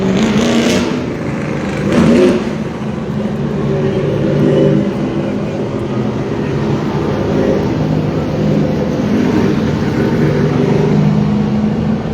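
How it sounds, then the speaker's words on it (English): Official pace car from Harper Motors driving onto the track at Redwood Acres Raceway, a steady engine drone with a couple of louder surges, crowd and arena noise mixed underneath throughout. "And we bring out the official pace car from Harper Motors, Chris Arnold."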